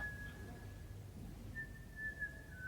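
A thin, steady whistle holds one high note, breaks off briefly, then resumes and continues, faint over a low background hum.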